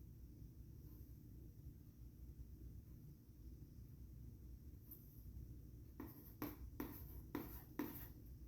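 A pen scratches across paper in handwriting, faint under a low room rumble at first, then a quick run of sharper, closer strokes toward the end.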